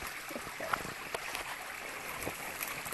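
A small jungle creek flowing with a soft, steady trickle and occasional light splashes, faint and close, with no one talking.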